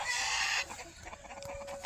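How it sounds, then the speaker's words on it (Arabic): Chickens in a coop give a loud, drawn-out squawking call that breaks off abruptly, followed by softer scattered clucks and a faint steady hum. "كاين دجاج هنا في المسرح"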